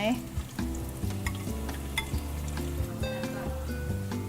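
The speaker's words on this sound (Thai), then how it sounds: "เดี๋ยวเราจะ ทำวิธีขั้นตอนการทอดกันดีกว่าว้า ได้ยินเสียงกันไหม" Crab cakes sizzle and bubble steadily as they deep-fry in hot oil, with occasional clinks and stirring sounds, close by.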